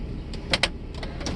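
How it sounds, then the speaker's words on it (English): Electric rear window shade on a 1995 Mercedes S600 coupe, its motor giving a short faint whir with a couple of brief mechanical clicks inside the quiet cabin. "The rear shade works."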